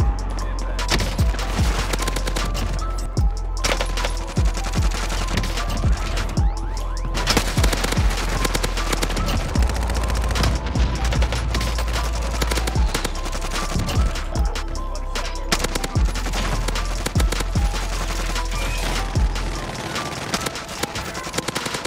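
Rapid assault rifle fire from the KRIG in Call of Duty Warzone rattles in sustained bursts, loud and close, with sharp repeated cracks and booming low impacts running nearly the whole time.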